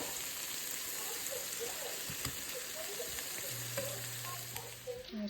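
Onions frying in a skillet give a steady, close sizzle with crackling pops throughout, a low hum running underneath for part of the time.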